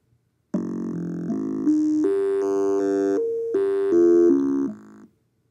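Sonified data row played as a sequence of synthetic harmonic tones, stepping up to a peak and then descending in pitch, held notes of about half a second each, steady and clear with no talking.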